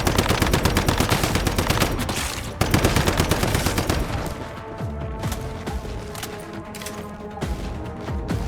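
Gunfire and grenade launches in the Once Human video game, with loud rapid automatic bursts in the first seconds, then sparser shots and thumps over a lingering ringing tail.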